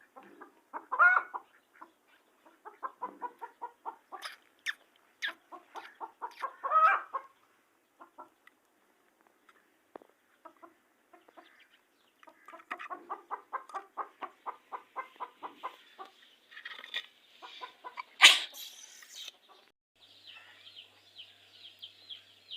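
A hen sitting on eggs clucks repeatedly in short bursts, close by, with a few sharper squawks and a higher chirping near the end.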